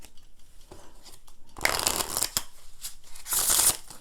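A large Phoenix Parlour deck of playing cards is shuffled up close, with quiet card handling followed by two loud riffling bursts of flicking cards and brief taps between them.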